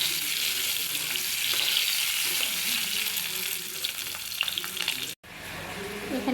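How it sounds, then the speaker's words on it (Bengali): Eggs frying lightly in oil in a pan with onions for an egg bhuna beside khichuri, a steady close sizzle with occasional spatters and a brief break near the end. "ডিমটা একটু হালকা ভেজে নিলাম ভুনার জন্য।"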